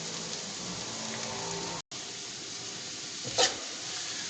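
Egg noodle chow mein is stir-fried over full flame, a steady, fairly quiet hiss and crackle of sizzling oil with one brief break and a quick scrape of the pan near the end, without voices.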